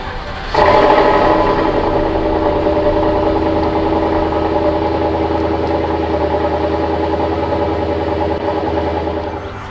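A 2010 Volvo S80 with a 32-valve four-cam V8 starts and settles into a steady, loud, close idle with a deep even rumble that holds to the end, with no talking.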